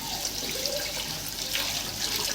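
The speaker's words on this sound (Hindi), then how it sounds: "अब इसमें मैं जो यखनी बची थी वो ऐड कर दूंगी।" Leftover meat broth (yakhni) pours steadily into a pot of aloo gosht, giving a continuous splashing liquid wash throughout with no talk.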